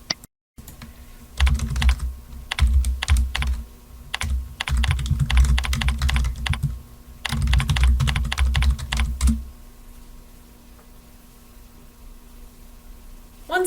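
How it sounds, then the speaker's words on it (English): A search query typed on a computer keyboard, close and clear, with three bursts of rapid key clicks separated by brief pauses, then a quiet room hum. "that's exactly what I'm going to type in the search box"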